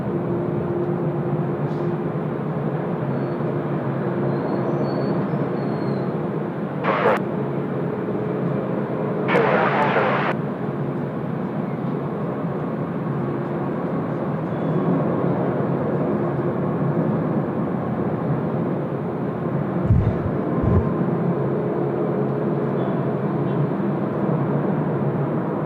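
An Asiana Airbus A380, flight 602, departs Sydney Airport in a crosswind, its engines producing a steady, heavy broadband roar that fills the scene throughout, with a few brief clicks and thumps nearby.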